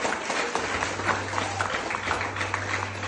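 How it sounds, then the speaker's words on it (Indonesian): An audience applauds athletes at a volleyball club's eleventh-anniversary celebration, giving a steady, even wash of clapping throughout. "Aplaus buat mereka."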